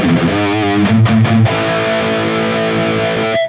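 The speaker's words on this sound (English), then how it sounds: "there's a lot of noise coming from the distortion stage" A sustained electric guitar chord with distortion and no noise gate rings out with a hissy noise floor, after a few choppy strums, then cuts off abruptly at the end.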